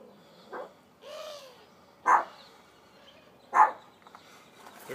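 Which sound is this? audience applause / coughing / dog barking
dog barking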